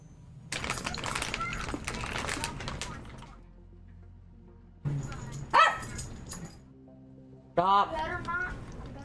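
A pet dog gives a few short, sharp barks and yips indoors, close by, interspersed with people talking loudly.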